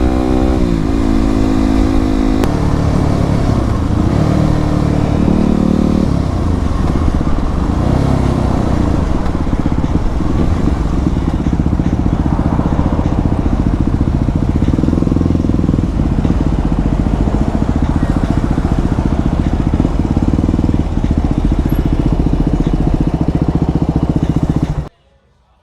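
Several motorcycles cruise together on a group ride in Okinawa, Japan, their engines droning loud and steady with layered revving and gear shifts throughout, then cutting off abruptly at the end.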